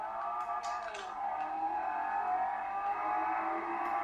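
A race car's engine in the Forza Motorsport 4 video game revs after a gear shift, holding a steady, loud, buzzing drone that builds slightly, with faint high whines near the start and no voices.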